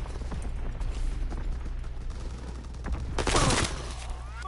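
Gunfire in the Call of Duty WW2 video game, scattered shots over a steady low rumble, building to a louder burst of fire near the end.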